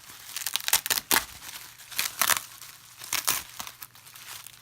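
Crinkling and tearing of scotch tape as a parcel sealed with lots of it is unwrapped, in a series of close, sharp bursts separated by brief pauses, with no talking.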